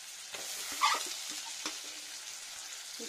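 Green chillies and tomato drop into hot spices frying in a pan for a vegetarian bottle gourd stem and potato dish, giving a faint steady sizzle with soft stirring knocks and one brief hiss at the moment of adding.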